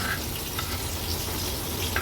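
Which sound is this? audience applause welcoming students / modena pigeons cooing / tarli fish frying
tarli fish frying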